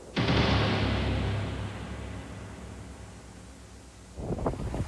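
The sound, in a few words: strong wind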